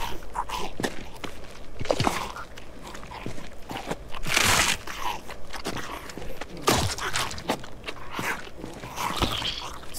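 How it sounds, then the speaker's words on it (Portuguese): Repeated crunching, wet bites from a zombie attacking the player in the survival game Project Zomboid, several close, irregular impacts over a busy bed of game noise, with no clear speech. "Vai, me morde aí, moço."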